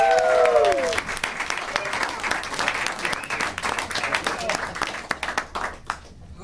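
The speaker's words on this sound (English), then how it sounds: "let's hear a warm round of applause" A music venue audience applauding a songwriter, loud and sustained clapping from a crowd, with a brief whistle at the start and cheering voices mixed in before it tapers off.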